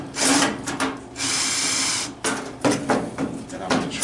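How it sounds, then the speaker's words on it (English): A screw gun whirs in several short bursts and one longer run while driving screws into a Dyna-Glo vertical charcoal smoker, close and fairly loud, with pauses between bursts. "we're going to use a screw gun"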